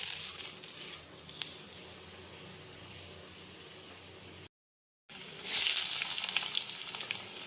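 Bay leaves crackle in hot oil in a kadai, giving a steady fizzing sizzle. A short gap follows, then a louder, brighter burst of frying that continues to the end.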